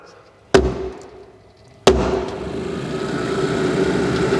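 A blower motor fan in a compact wheel loader cab whirs into life after a sharp thump from a punch: two loud knocks, then a steady whooshing drone that carries on to the end, with no talking.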